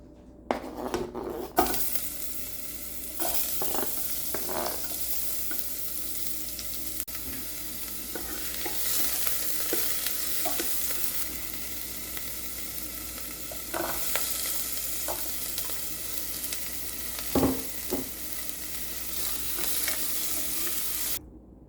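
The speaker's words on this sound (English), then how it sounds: "I'm going to go ahead and remove them so that I can saute my vegetables" Vegetables sauté in oil in a soup pot, a loud continuous sizzle broken by repeated scrapes and clatters of stirring against the metal.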